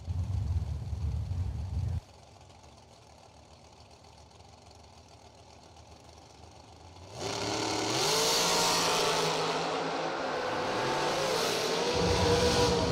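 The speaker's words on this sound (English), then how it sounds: "What a drag race." Drag race cars sit with a loud, rough idle, the sound drops to a distant hush, then a powerful roar builds as the cars launch and race down the strip, engines screaming at high volume.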